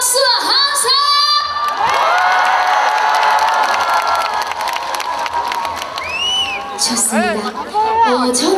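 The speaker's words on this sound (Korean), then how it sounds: "한 번 더 크게 박수와 함성!" Loud festival crowd at an Arirang festival opening ceremony, clapping and cheering with children's shouts and whoops rising over the applause, high voices yelling near the start and again toward the end.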